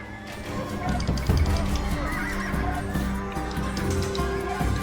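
A horse whinnies loudly amid busy Age of Empires II game audio, with music, shouting and other animal calls layered around it.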